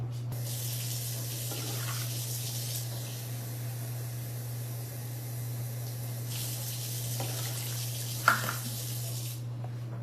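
Water pours into a pot of smooth Ghanaian groundnut soup, a steady running hiss with two louder bursts of pouring and a brief clunk near the end, over a constant low hum.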